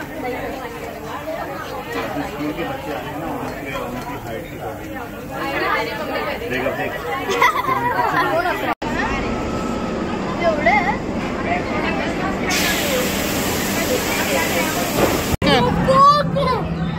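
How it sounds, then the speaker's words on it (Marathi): Crowd chatter and hubbub fill the air while people queue for a fast express-pass ride at an amusement park. The babble is dense and steady throughout, with brief breaks and some louder nearby voices. "गर्दी बघा।"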